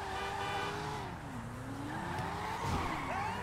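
A car driven fast in the GTA 5 video game, its engine tone rising and falling with gear changes and revs, tires squealing and skidding near the end, loud and close with no talking.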